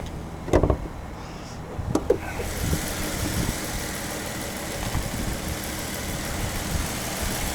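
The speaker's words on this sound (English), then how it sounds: "Nice motor, provides good amount of power." A 2014 Dodge Charger SXT AWD with a 3.6 liter Pentastar engine idles in a steady, quiet low rumble after a couple of brief clicks at the start.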